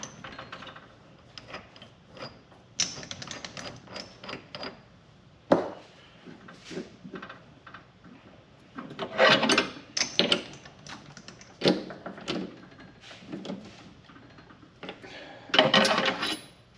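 Quick change tool post lock lever on a Vevor mini lathe being cranked tight, giving scattered metallic clicks, ratcheting ticks and a few sharper clanks, fairly quiet and close.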